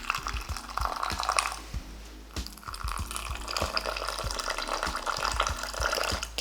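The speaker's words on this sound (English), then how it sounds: "Okay, so now I'm gonna put my water in it." Water pours into a cup of matcha powder, a steady liquid trickle with a faint rhythmic dripping pattern, close and alone without talk.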